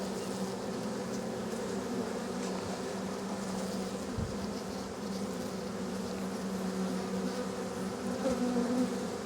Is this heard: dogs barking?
no